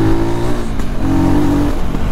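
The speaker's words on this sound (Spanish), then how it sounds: "suena como una moto enduro de las de fácil acceso" A Voge 300 Rally enduro motorcycle engine revs hard and steadily up close, a loud, continuous motor roar with no one talking.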